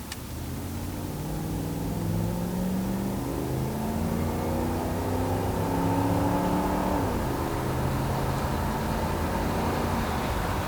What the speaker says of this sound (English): Give it just a little gas here.